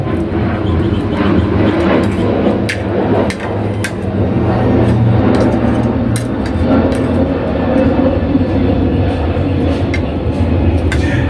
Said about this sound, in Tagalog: Wait lang, may dumaan na aeroplano.